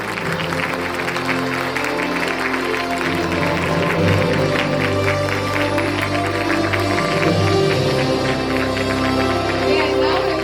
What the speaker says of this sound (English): Let us give a resounding round of applause to the entire school cabinet